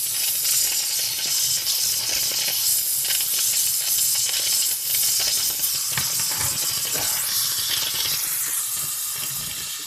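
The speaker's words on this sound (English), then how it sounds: "you start out by boiling this steam, and then you steam clean it periodically" Steady, broadband hissing of steam blowing continuously from an espresso machine steam nozzle during cleaning, loud and close, with faint clinks and rattles underneath.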